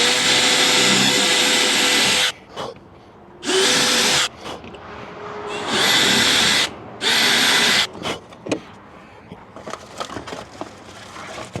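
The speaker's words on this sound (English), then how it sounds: "All right, there we got all those holes drilled." A power drill bores holes in a metal bracket for an RV entry door friction hinge install, running in several loud, sustained bursts of a couple of seconds each, separated by short pauses, with no talking.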